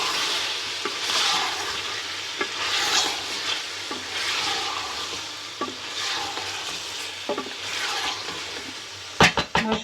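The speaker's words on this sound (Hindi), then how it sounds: "मैं थोड़ा सा इसमें पानी डाल के इसे 5 मिनट के लिए पकाऊंगी" Chicken and chickpeas simmer in gravy in a pot, giving a steady low bubbling sizzle with stirring scrapes throughout, ending in a few sharp clanks.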